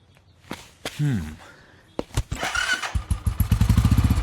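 A motorcycle engine catches after a few scattered knocks and a brief voice-like sound, then settles into a close, loud, rhythmic putter whose pulses grow stronger and faster.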